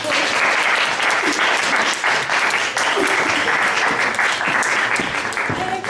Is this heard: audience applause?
yes